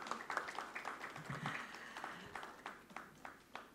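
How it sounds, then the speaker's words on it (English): Scattered applause from a small audience for jury chair Twinkle Khanna at a social media awards jury meet, individual claps sounding sparse and fairly faint, with a brief murmur of voices partway through. "Have a round of applause for our jury chair,"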